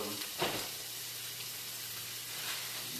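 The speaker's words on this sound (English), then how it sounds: "put a nice little sear on that" Food searing in a hot pan, a steady broadband sizzle that holds evenly across the whole stretch, with a slightly louder burst near the start and no talk over it.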